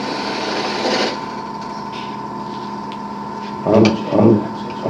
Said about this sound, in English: Start up on top, find the bevel, start to cut, raise the handle and roll the tool so I end up vertical right there.